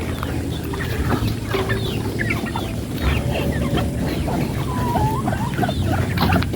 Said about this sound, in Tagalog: si Joel nagpapakain naman siya ng ating mga inahing native